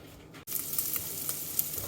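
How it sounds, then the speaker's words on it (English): Bacon sizzles in a pan with a steady bright crackle after a brief pause, close and moderately loud, with scattered pops and no talk. "Okay, now we've got our bacon going a little bit."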